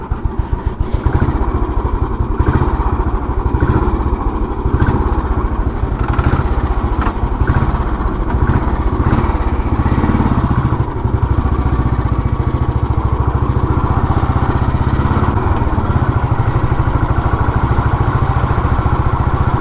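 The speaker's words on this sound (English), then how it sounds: "I always love to ride this bike." Royal Enfield cast iron motorcycle engine running steadily while riding on a monsoon-season outing, a loud continuous low thump close to the microphone throughout, with wind and road rumble and no talking.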